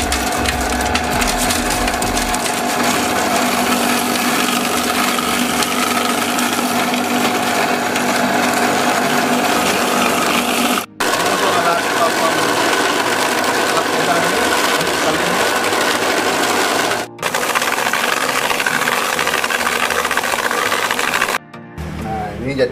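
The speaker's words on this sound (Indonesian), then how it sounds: "dagingnya ini akan diselip, dan atau di blender terlebih dahulu supaya halus" Electric meat grinder mincing pork for satay, a loud continuous mechanical whirring and grinding hum, with two brief pauses and a stop near the end, with a voice talking over it.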